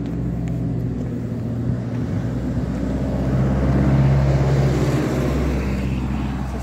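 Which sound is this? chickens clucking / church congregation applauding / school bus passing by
school bus passing by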